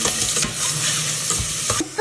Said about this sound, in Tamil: வெங்காயம் போட்டுக்கலாம். வதக்கிக்கலாம்.